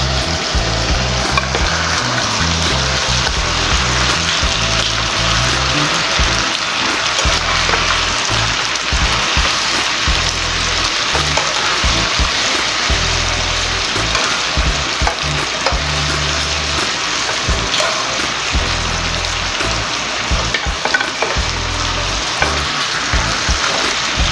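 Red snapper fillets sizzle and fry in hot oil in a small pot, a dense steady crackle with bubbling and occasional spatters running continuously, loud and close with no talking.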